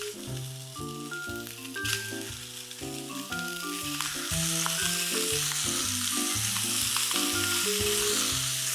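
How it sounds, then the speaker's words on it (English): Beef meatballs frying in oil in a hot pan give a loud, dense, continuous sizzle that swells after the first few seconds, with a musical backing underneath and no voices. "So into a nice hot pan, we've got some oil, and then we get our balls in there"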